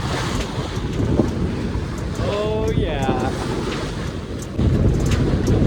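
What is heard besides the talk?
wind and waves on a sailboat bow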